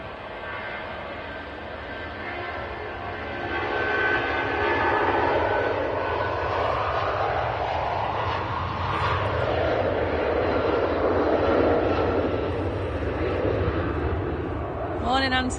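An airplane passes at Manchester Airport with a loud, broad engine roar that swells and holds for several seconds at close range, with people talking underneath.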